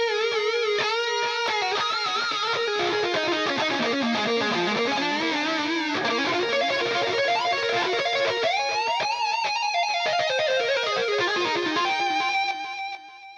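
A distorted electric lead guitar plays a fast, soaring metal solo with bends and runs, loud and continuous, fading at the end.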